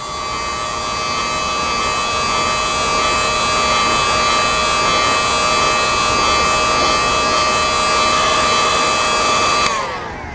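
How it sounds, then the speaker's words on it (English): A heat gun heat-setting paint runs as a steady, loud electric whine with a fan hiss, holding constant for about ten seconds before cutting off near the end. "I am using a heat gun today because I find it slightly less irritating in the camera."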